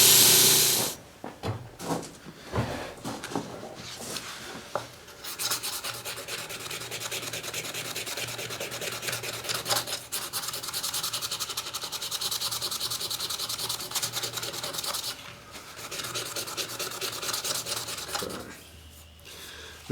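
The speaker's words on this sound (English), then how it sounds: "now we'll get some finer grit hand sandpaper and work on it from there" Hand sanding of a Mora 311 knife with fine grit sandpaper, a steady close rasping rub that runs back and forth almost continuously, with a few brief pauses and no talk.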